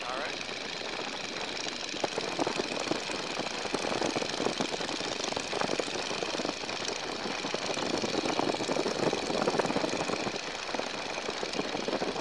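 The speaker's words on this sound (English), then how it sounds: "I like to run a little power in the pattern like you're doing now, just to, especially when it's cool like this, just to keep that engine warm." A Stearman biplane's engine runs steadily with some power on in the landing pattern on a cool day, giving a dense, continuous roar that stays loud and constant from inside the open cockpit.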